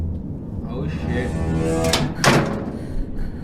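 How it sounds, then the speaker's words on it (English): A door swings open and then shuts with a quick pair of knocks and thuds, heard against a low, murmuring voice. "I heard the door open and close again."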